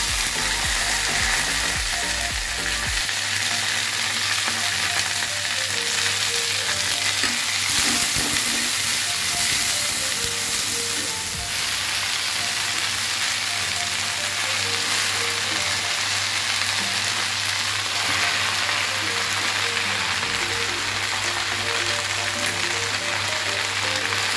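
Jute leaves hitting a hot pan with whole dried red chillies, a loud, dense, steady sizzle and crackle that fills the whole stretch, up close, with faint stirring underneath and no one talking.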